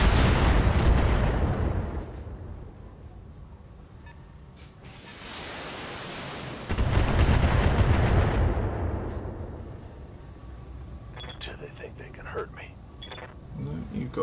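Mech weapons fire in BattleTech with two long roaring bursts like heavy missile or cannon salvos, each swelling and fading, followed by scattered smaller pops and clicks.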